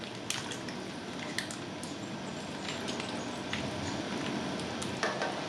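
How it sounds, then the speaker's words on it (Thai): Steady bubbling and simmering in a pot of salted braised pork leg, with occasional soft scrapes and clinks of a spoon against metal as foam is skimmed off. "พอน้ำเดือดมีฟอง เราก็คอยช่อนฟองดำๆออกนะครับ"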